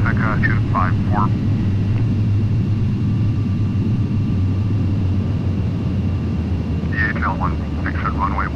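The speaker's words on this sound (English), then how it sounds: "Pacifica 254, cleared for takeoff. Runway 25, right." A Boeing 737-800 jet roars steadily on its takeoff run from runway 25 right, a loud continuous engine rumble heard under brief radio chatter from air traffic control at the start and end.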